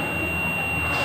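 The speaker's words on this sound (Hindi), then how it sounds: "बजर बज रहा है।" A clamp meter's continuity buzzer beeps as a single continuous high, steady tone over a noisy background as the two probes touch, lasting the whole moment without a break.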